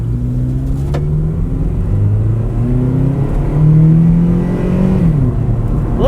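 A Chevrolet Impala with its check engine light on revs and pulls away from a stop, its pitch climbing steadily in sweeping rises, loud and close with no talking.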